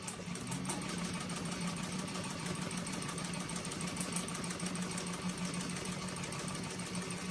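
A sewing machine stitches fabric right beside cording to make piping, humming and chattering in one continuous, even run from start to finish, close and steady with no voices.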